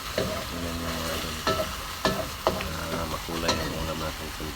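A spatula scrapes and clatters in a pan as fried tulingan fish is stirred into a sizzling sauce of vinegar, ketchup, sugar and pepper, with several sharp knocks over a soft, constant sizzle.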